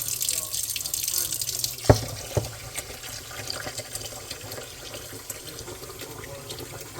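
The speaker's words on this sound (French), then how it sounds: "J'ai mis un petit verre de lentilles vertes ici dans l'eau. Et je commence à laver avec de l'eau tiède." Warm tap water runs steadily over green lentils being washed in a sink, a continuous close splashing stream with a sharp knock near the start and a faint quieter patch later.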